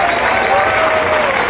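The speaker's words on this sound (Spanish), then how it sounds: "¡Fuerte el aplauso!" A crowd at a snook fishing tournament in Catazajá, Chiapas claps in a dense, steady burst of applause, loud and close, with a voice carrying over it.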